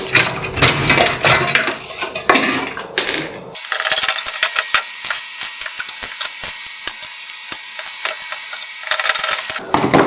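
Hard drive being fitted into the drive tray of an Intel Core i7 12700K editing PC, loud close metallic clattering and sliding clicks, then a run of sharp rattling taps and ratcheting knocks, with no talking.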